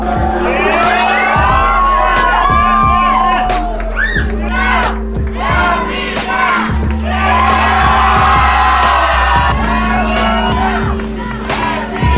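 Latvian supporters along a luge track in Sigulda cheer and whoop loudly in a crowd, with shouts rising and falling over a repeating low horn-like drone, near and energetic throughout.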